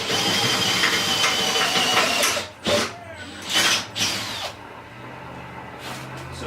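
A power drill bores into the plastic body panel of a Maverick X3 side-by-side, running steadily and loud for about two seconds, then short bursts of drilling follow with pauses between.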